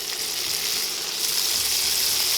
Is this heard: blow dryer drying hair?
no